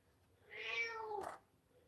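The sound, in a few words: pet cat meowing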